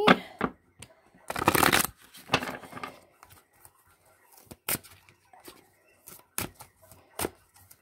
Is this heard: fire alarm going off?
no